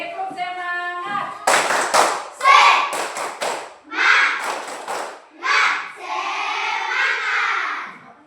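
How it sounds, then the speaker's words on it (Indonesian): A standing class of children performs a rhythmic spirit-clapping routine, tepuk semangat, in a classroom. Clusters of sharp, close claps come in bursts, mixed with children's chanting voices. "Semuanya berdiri, tepuk semangatnya."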